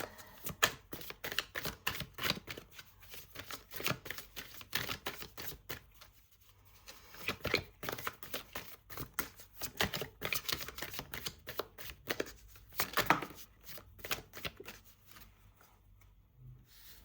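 An Energy Oracle card deck is shuffled by hand in a steady run of quick, crisp riffling and sliding card noises, close and fairly soft, continuing for over fifteen seconds with brief pauses.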